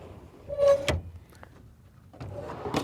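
A slide-out kitchen drawer in a Land Rover rooftop camper is pulled open and pushed back, with scraping runner sounds and a thud or clack at each end of travel, heard close.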